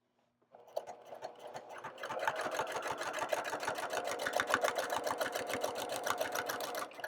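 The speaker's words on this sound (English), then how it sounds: "So on my next line that I stitch, I'll put my walking foot in." A sewing machine fitted with a walking foot stitching through a quilt, a rapid, even mechanical clatter that starts after a short pause and runs steadily, close and alone without voices.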